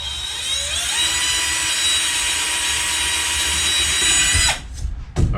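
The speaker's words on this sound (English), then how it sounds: "go ahead and drill a hole all the way through both of them" A power drill whines steadily at high pitch for several seconds, close and loud, drilling through van wall paneling, then spins down and stops with a couple of short bursts.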